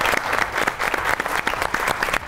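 Studio audience on a comedy talk show breaking into loud, dense applause, many hands clapping continuously and close with no talk over it.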